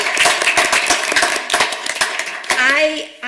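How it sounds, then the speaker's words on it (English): An audience at a library board meeting claps in a short burst of sharp, close hand claps, which soon thins out as a voice begins speaking over the tail end. "we could start with a clap"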